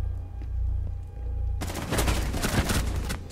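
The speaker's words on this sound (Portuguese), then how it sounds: "O Rambo do tiro infinito." Rapid automatic gunfire erupts suddenly after a low rumbling hum, continuing as dense, loud bursts of shots in the video game Rainbow Six Siege.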